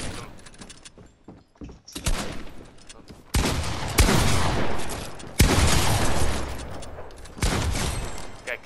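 Pump shotgun blasts in Fortnite during a box fight, several loud booming shots spaced a second or so apart with clattering game noise between them.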